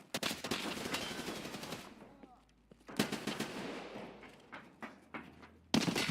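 MDR rifle firing M995 rounds in Escape from Tarkov, rapid automatic bursts of loud close gunfire, one long burst then shorter strings of shots separated by brief pauses.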